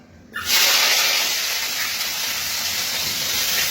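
Food hits hot oil in a home kitchen and bursts into a loud, steady, close sizzle that holds for several seconds after a short quiet start, with no voices.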